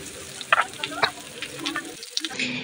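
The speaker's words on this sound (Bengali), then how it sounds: "এবার পেঁয়াজটা আমি হালকা করে ভেজে নেব।" Chopped onion frying lightly in hot oil with whole bay leaf and five-spice, a steady crackling sizzle with a couple of sharper spatters and stirring scrapes, briefly dipping near the end.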